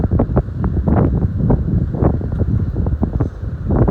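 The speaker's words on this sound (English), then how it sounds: "so a bit windy, so forgive me for the wind" Steady gusty wind buffets the microphone at a house build site in Barbados, producing a loud rumbling roar that swells and dips in rapid bursts.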